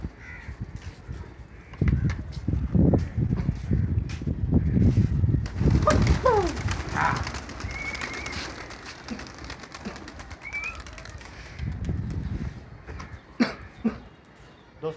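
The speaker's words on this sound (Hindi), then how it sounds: "जैसे ही कबूतर उड़ाए सीधी अपने कबूतरों को देखना कैसे निकालेंगे" Pigeons are released outdoors and take off, with a burst of flapping and rustling, coos, crow caws and a barking dog mixed in at close to middle distance.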